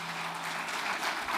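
An urban forests forum audience applauds briefly, a steady wash of clapping lasting about a second and a half at moderate distance.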